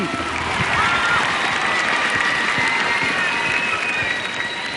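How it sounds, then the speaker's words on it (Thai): A live studio crowd at a Thai singing-contest broadcast claps and cheers continuously, a full roomy wash of applause with faint whistles and voices mixed in throughout. "ขอเสียงปรบมือให้กับตัวเองทุกคนเลย"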